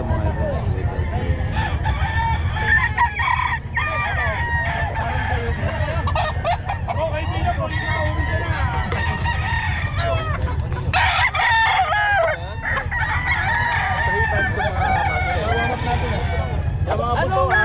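Sweater gray gamefowl roosters crow again and again, mixed with clucking and other farmyard fowl sounds, while people talk over the birds throughout.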